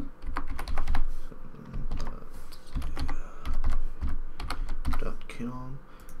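Fingers type a password on a computer keyboard in quick, uneven bursts of close key clacks that continue throughout, with a brief voice near the end.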